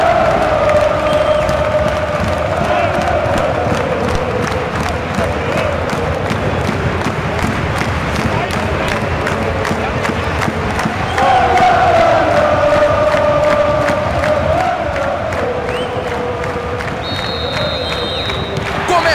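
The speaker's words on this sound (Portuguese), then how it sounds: "a torcida se agita na arquibancada" A stadium crowd in the PS2 football game PES 2009 cheers and chants continuously, a loud roaring wash that swells midway, with commentary talk over it.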